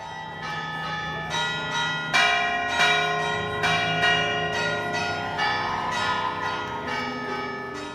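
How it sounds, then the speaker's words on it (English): Church bells of the Igreja e Mosteiro de São Gonçalo in Amarante ring loudly, with overlapping strikes at an irregular pace and long ringing tails that blend together. "exiting the Igreja e Mosteiro de São Gonçalo to the loud chimes of the church's bells."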